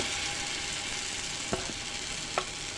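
Lentil batter fritters fry in hot oil with a steady, close, even sizzle, broken by two faint clicks of a utensil.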